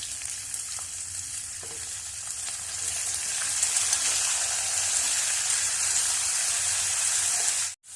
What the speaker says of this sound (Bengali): ফুলকপিটা দিয়েও কিছু সময় রান্না করে নেব।